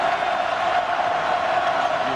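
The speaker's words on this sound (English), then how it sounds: "Well, this crowd is loving it." Basketball arena crowd cheering at a college game, Kansas at Texas Tech, a steady loud wash of roaring fans that stays at one level throughout.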